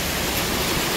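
Pagsanjan Falls waterfall roars as a steady, dense rush of falling water, loud and close, with no break or voices across the short moment.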